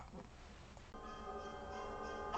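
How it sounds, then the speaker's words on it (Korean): Bells of an Orthodox church in a Bulgarian village ring with sustained, resonant tones that swell in after a quieter start and hold steady to the end, heard faintly at a distance. "이 종소리는 내가 불가리아에 있을 때 동네의 그 정교회 교회당에서 울리는 종소리입니다."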